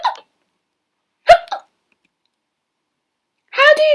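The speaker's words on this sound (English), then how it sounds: "How do you cure the hiccups" A young boy hiccups in three sharp, brief bursts separated by silence, the last a little longer and more voiced, close and clear.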